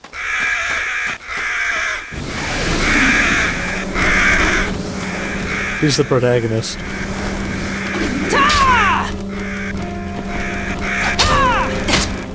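Crows caw repeatedly in the video game Fragile Dreams: Farewell Ruins of the Moon, loud harsh calls over an ambient game soundscape with mechanical tones, while someone speaks briefly.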